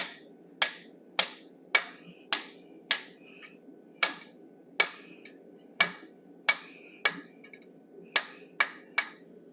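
Hammer blows on hot steel at an anvil while forging an animal head, about fifteen sharp ringing strikes in a steady rhythm with short decays between them, loud and close with no talking.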